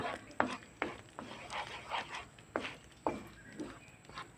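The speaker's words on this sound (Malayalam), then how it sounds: "കൈവിടാതെ അത് ഇളക്കിക്കൊണ്ടിരിക്കണം" Banana halwa flavoured with ground cardamom is stirred steadily in a pan as coconut oil is added, making soft, rhythmic scraping strokes roughly every half second, close but low in level.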